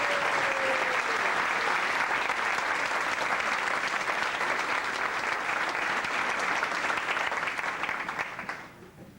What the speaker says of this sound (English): stand and get a lot of applause